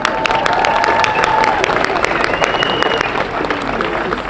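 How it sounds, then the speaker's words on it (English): Crowd gathered at an evening candlelight vigil breaks into applause, with a loud, steady wash of clapping mixed with murmuring voices close by. "I want to give you a round of applause."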